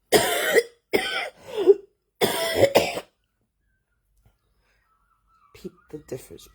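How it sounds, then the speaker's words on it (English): Several harsh, hacking coughs come in quick bursts early in the morning, close and loud, then silence before faint breathy throat sounds. "as you can hear, the coughs have come back"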